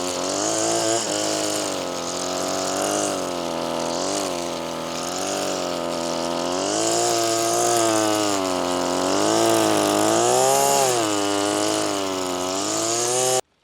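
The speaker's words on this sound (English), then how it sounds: "Edging is so much more fun when you're doing it with the boys." Lawn edger trimming overgrown grass along a pond edge, a steady loud engine drone with slowly wavering pitch as the cutting load shifts, running continuously throughout.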